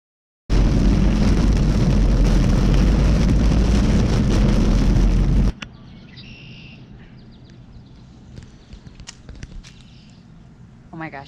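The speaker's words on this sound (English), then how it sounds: "Oh my gosh, it's stopping raining now." Loud, dense rain pours down steadily for several seconds, then cuts off abruptly, leaving quieter ambience with faint scattered sounds.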